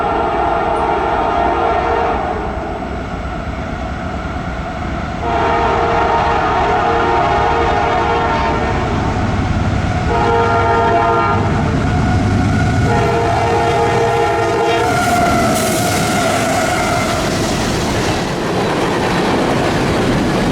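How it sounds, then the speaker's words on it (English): CSX B158, an eastbound freight train hauling garbage, passes at dusk with a loud, sustained roar of rolling wagons and rhythmic clickety-clack, while its horn sounds in long blasts during the passage. "our first train was arriving, which was CSX B158 screaming eastbound with garbage"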